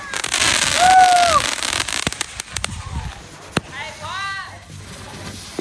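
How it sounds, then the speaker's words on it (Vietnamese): Z121 fireworks bursting at a Tet 2025 celebration, a loud crackling cluster followed by sharp pops and whistling rockets, some close and some farther off, with background noise from the crowd. "Đó, như pháo sáng các bạn."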